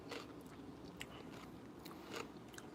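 Someone bites into crunchy fresh garden produce. A few faint, close crunches and chewing sounds rise over a low hiss, and no one speaks.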